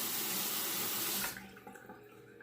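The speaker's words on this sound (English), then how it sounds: "Let me wet the razor." Tap water runs steadily from a faucet to wet a safety razor, then cuts off, followed by a few faint drips and small handling sounds at the sink.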